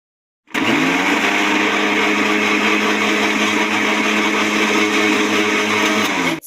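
A blender grinds roasted chickpeas with water into a paste, switching on after a short silence and running loud and steady with a constant whirring drone before cutting off at the end.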